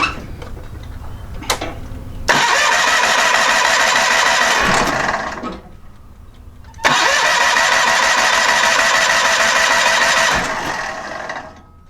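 A John Deere 318 garden tractor with an Onan P218G engine cranking and catching, two loud bursts of engine roar several seconds long, each dying away, close up with no talking.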